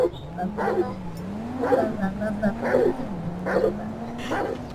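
A dog gives a run of short yips and whiny barks in quick bursts over a low, droning hum, fairly close.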